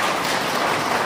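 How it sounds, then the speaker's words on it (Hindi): A brief burst of audience applause at a BJP office gathering marking Atal Bihari Vajpayee's 100th birth anniversary, dense and steady clapping with no voices. "एक बार तालियों के अनुरोध से आदेशित करें।"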